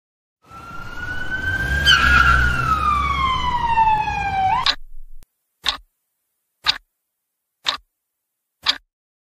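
A police car siren wails loudly and continuously with a rising and falling sweep, then cuts off, followed by four evenly spaced sharp clicks or knocks.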